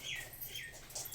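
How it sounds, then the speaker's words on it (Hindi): A bird chirping from a nearby tree: faint, high, sweeping chirps repeat a few times over a low, steady background hum. "अरे चिड़िया का आवाज है"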